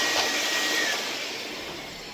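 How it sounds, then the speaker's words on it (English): A vintage 1970s Air-Way Sanitizor Mark V vacuum cleaner runs steadily close by, a loud broadband whooshing drone with a faint high whine, fading slightly toward the end, with no talking. "Sometimes I just want to do a good vacuum,"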